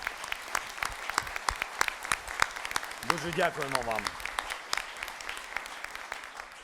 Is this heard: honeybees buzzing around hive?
no